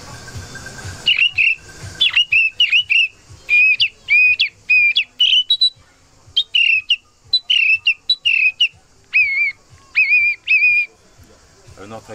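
A person whistles an imitation of a song thrush at an outdoor hunting festival in Provence, a run of short, repeated, bright phrases with brief pauses, loud and close.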